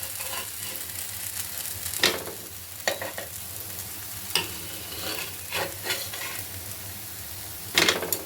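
A spinach pancake sizzles in an oiled pan, a continuous close frying hiss punctuated by several scraping, clattering spatula strokes as it is turned, with no voices.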